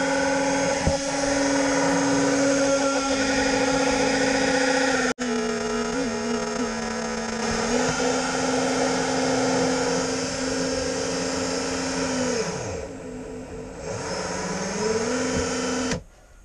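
Dremel rotary tool spinning at about 20,000 RPM against a metal lock, a steady high whine with a strong tonal hum that dips briefly as the load changes, continuous and close for most of the stretch.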